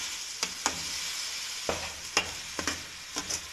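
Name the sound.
spices frying with chicken and vegetables in a pan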